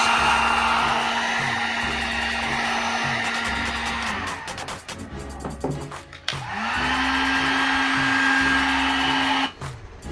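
A hair dryer or heat gun runs loud and steady as it reheats a headlight housing on an Infiniti G37 to soften the butyl, cutting briefly around the middle before starting up again.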